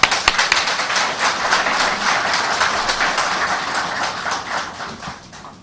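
Audience applause at a ceremony addressed by Pakistan's energy minister, a dense wash of many hands clapping that starts right away and keeps a steady level for several seconds before thinning slightly toward the end.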